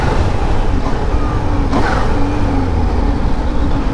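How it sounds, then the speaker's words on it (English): A motorcycle engine blips to rev-match on downshifts, then engine-brakes as the bike slows to a stop; the loud, close, continuous drone is overlaid with wind rush. "so that is rev matching and engine braking as I'm coming to a stop"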